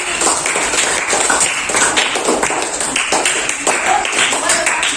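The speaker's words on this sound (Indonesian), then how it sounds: "Bagus, tepuk tangan lagi." Children in a sixth-grade math classroom clap together, producing a brisk, close, continuous patter of hand claps with some voices mixed in.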